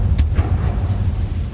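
An Incendio fire spell is cast in Hogwarts Legacy and gives a heavy, booming whoosh of flame with a deep rumble that holds steady for over a second. It is loud, close and has no speech over it.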